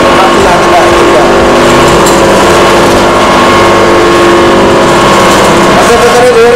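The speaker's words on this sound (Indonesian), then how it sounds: "Mesin rotary dryer ini bisa digunakan untuk berbagai macam produk." An automatic rotary dryer machine runs loudly with a dense, constant mechanical drone and rattle, and a voice talks over it.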